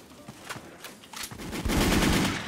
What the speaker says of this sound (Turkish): Hop, onu da vurduk abi.